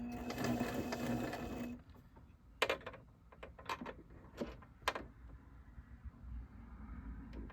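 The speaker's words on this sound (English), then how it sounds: "I'm trying to stitch about 1/8 of an inch away from the edge." Domestic sewing machine stitching a quilt appliqué about an eighth of an inch from the edge, running in a steady loud whir for nearly two seconds before stopping, followed by scattered clicks and handling taps.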